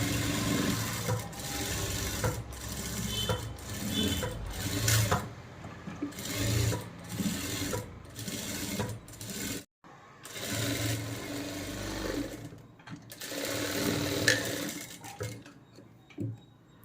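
A sewing machine stitches an Aari work blouse neck in bursts of rapid rhythmic clatter, broken by short pauses and fabric handling, close and fairly quiet with no talking.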